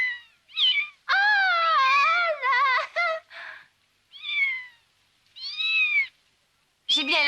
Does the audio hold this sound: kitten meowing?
yes